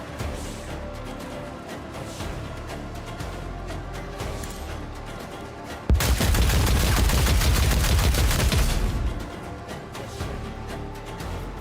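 Sustained automatic gunfire in Dark Heresy, a Warhammer 40k game, erupts abruptly as a loud, dense rapid-fire burst lasting about three seconds, then cuts back to quieter ambient game sound.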